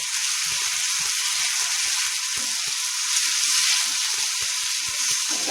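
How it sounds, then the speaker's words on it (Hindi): Minced garlic and ginger paste frying on medium heat in a pan for a spicy bean and potato curry, giving a steady, close, bright sizzle with faint crackles and occasional stirring scrapes throughout, no talking. "एकरा मध्यम आंच पे बढ़िया जकाँ भूज लै छै"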